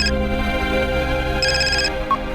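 A phone ringtone chirps in short repeated bursts over steady background noise, fairly close and clear.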